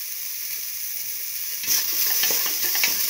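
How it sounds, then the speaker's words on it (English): Tomato with salt sautés in a pan: a quiet steady hiss swells halfway through into louder sizzling with scraping stir strokes. "Keep on sauteing."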